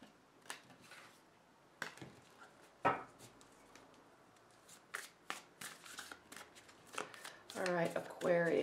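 Tarot cards being shuffled close by, in crisp riffling bursts and soft slides, with scattered taps and a quiet voice underneath at times.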